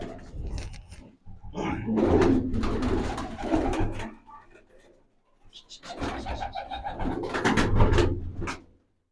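Loft pigeons coo in two long rolling bouts close by, with rustling and clatter mixed in and a short lull between them, while someone talks over parts of it.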